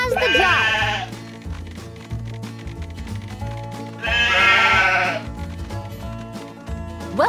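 Cartoon sheep bleat in two clear wavering bursts, one at the start and another midway, over steady background music in a children's animated show.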